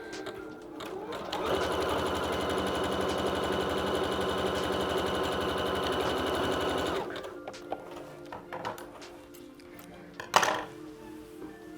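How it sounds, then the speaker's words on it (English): A sewing machine runs a normal zigzag stitch in one steady, rapid whirring burst of about five seconds, close and even, then stops, followed by quiet handling clicks and a brief sharp clack. "First up, I'm going to do a normal zigzag stitch."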